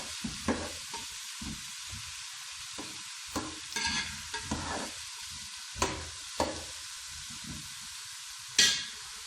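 Vegetables fry in a pan with a steady sizzle while a spoon scrapes and stirs them in repeated bursts, close and clear, with one sharper clatter near the end.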